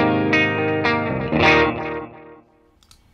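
Electric guitar through a ToneX tape delay with a darker tone, a few distorted notes and chords ringing out with repeats trailing off into near silence at the end.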